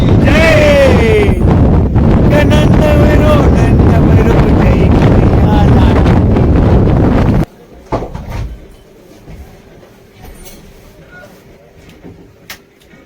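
Strong cold wind roars and buffets the microphone on a boat off Shivrajpur Beach, Dwarka, for several seconds, then suddenly drops away to near quiet with faint rumbling.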